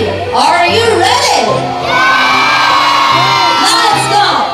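A crowd at a sea lion show cheers, whoops and shouts loudly in sustained waves, with many voices yelling together close by.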